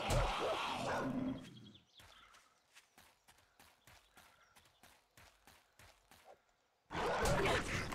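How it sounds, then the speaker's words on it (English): A zombie dog in 7 Days To Die lunges in a rapid series of about a dozen sharp, evenly spaced snaps and thuds, like quick attacks or footfalls, between louder bursts of noise at the start and end. "An invisible dog just attacked me."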